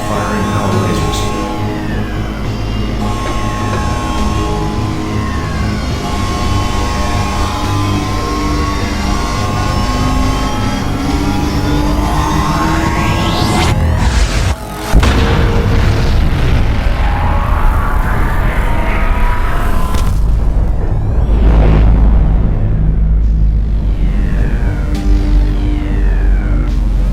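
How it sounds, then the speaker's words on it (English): Power lasers fire and a reactor ignites in a video game facility, a loud sustained rising whine and drone building up, then a sudden deep booming surge that rumbles on heavily. "Reactor ignition in process. Firing power lasers."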